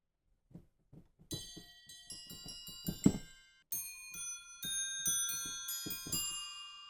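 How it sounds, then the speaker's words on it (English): Handbells from the VSL Synchron Percussion III sample library chime alone, first a few soft low strikes, then clear, shimmering rung notes with long ringing overtones, growing fuller toward the end. "Handbells."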